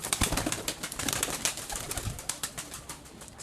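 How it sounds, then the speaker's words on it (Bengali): Pigeons give soft, repeated coos amid fluttering and light rustling as they are let out, the sounds coming in quick irregular bursts, fairly close but faint. "এখন আমি কবুতর ছাড়বো"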